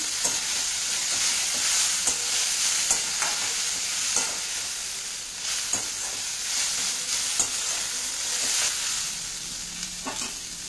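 Mint leaves sizzling in a pan on the stove for mint rice, stirred with repeated spoon scrapes and light clicks over a steady broad frying hiss, close and fairly loud throughout with no talking.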